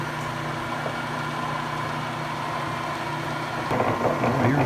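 A vintage CMC metal lathe turning at its slowest speed gives off a steady low motor hum with a faint whir, growing slightly louder near the end, with no speech.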